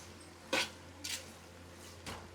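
Chicken being stirred into masala in a cooking pot, with three distinct metallic scrapes and clinks of a spoon against the pot spaced out over a quiet background hum.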